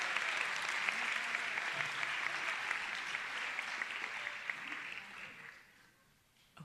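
An audience at a high school recognition night claps in a dense, sustained burst of applause that fades out near the end.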